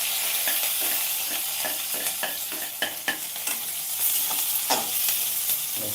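Spices tempering in hot oil for a tadka sizzle and crackle steadily, with intermittent stirring clatter, moderately close and without talk.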